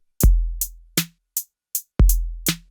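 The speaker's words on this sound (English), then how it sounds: "the drum kit will sound like this." An electronic drum kit plays a short beat of kick, snare and hi-hat hits with a crisp, dry sound, alone and close.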